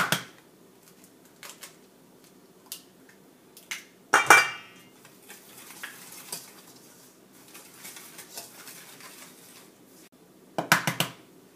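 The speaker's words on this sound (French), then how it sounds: "Puis on va bien mélanger." Beignet batter of flour, baking powder and vanilla sugar is mixed in a bowl, with sparse clinks and scrapes of a utensil against the bowl and two louder clattering bursts in otherwise quiet surroundings.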